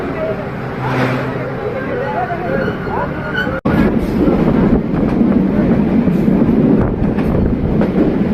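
A moving train rumbles steadily close by, a loud continuous clatter and roar with a brief cut midway, while people talk over it inside the carriage.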